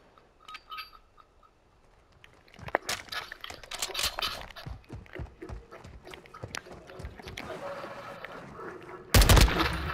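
Gunfire from Call of Duty: Modern Warfare II, heard as a rapid series of sharp shots mixed with game sound effects and a loud burst near the end, with some talking in the background.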